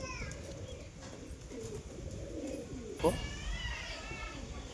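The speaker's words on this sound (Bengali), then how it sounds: "দেশি গিরিবাজ লাইনের কবুতর, পুরাতন ব্লাড যেটাকে বলছে সেই ব্লাডের কবুতর" Deshi Giribaz pigeons of an old bloodline coo softly and repeatedly near the listener, while someone talks over them throughout.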